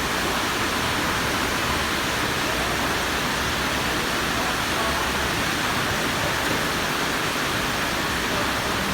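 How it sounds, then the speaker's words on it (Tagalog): Constant, heavy rush of rain on a bus trip to Davao City, a dense hiss filling the whole clip at an even level without breaks. "Super malakas ang ulan ngayong araw na ito."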